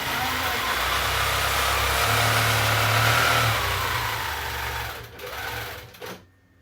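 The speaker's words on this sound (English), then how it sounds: "I am going to stitch down the side on this side, and I'm going to check my tension." Longarm quilting machine running a steady, fast mechanical whir as it stitches down the side of a quilt, close and fairly loud, then slowing with a couple of dips before stopping abruptly near the end.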